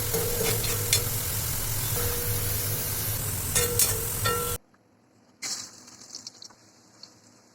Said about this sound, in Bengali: এগুলো এখন তেলে ভেজে নিচ্ছে